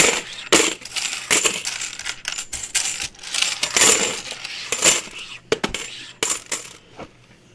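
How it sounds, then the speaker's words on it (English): Coins drop and clatter repeatedly in close, bright metallic bursts, jingling in quick irregular clusters over several seconds, loud and near. "get ready for a little coin noise"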